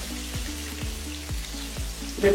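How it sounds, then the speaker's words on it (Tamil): Small onions fry in a pan for Thalassery chicken biryani, a steady close sizzle broken by a few spoon-stirring scrapes at a regular pace, with no talking. "இப்போ வந்துட்டு நமக்கு நைஸா சின்ன வெங்காயம் நல்லா கோல்டன் ப்ரௌன் கலர் ஆகிற வரைக்கும் நல்லா வருது."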